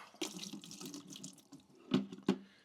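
Flushed antifreeze coolant from a Honda CRF300L motorcycle being shaken in a container and dumped out, close sloshing and splashing liquid with two sharp gushes near the end.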